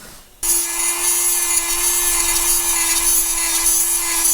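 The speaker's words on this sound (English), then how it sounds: "every now and then I'll hit a spot where the end mill just doesn't want to do it" End mill cutting weld out of a steering shaft, a loud, steady high-pitched grinding whine with a strong constant tone that starts abruptly and runs unbroken for about four seconds before stopping.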